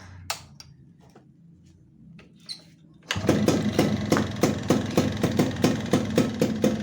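A Yamaha Alfa two-stroke motorcycle sits quiet with a few light clicks, then catches on the kick and runs, settling into a loud, rhythmic, pulsing idle close by.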